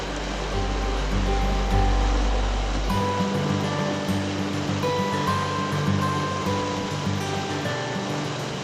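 Class 3 rapid on the San Juan River in Utah, a steady rushing roar of whitewater heard close and loud, with a deep low rumble in the first few seconds and no voices.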